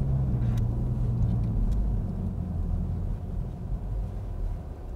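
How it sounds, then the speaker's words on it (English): A 2020 Toyota Supra Premium engine while driving, a steady low rumble with road and wind noise, fairly even throughout with no talk. "I just love that sound this car makes."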